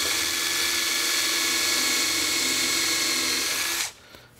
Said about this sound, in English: let's go ahead and drill some holes